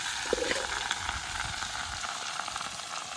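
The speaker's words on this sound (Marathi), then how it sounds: "आता यात फ्राय करत आहे आपण" Fish fries in a pan outdoors by a lake, a soft continuous crackling sizzle heard close but quietly, with no talking.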